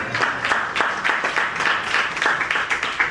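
Congregation clapping during a Friday worship service in a church hall, a dense, steady patter of many hands sustained throughout, with faint voices mixed underneath.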